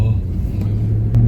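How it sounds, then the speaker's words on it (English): A car idling after a remote start in freezing winter cold gives a steady low rumble with a faint whir, close by and continuous, while a person talks over it. "so my car was started by the remote control"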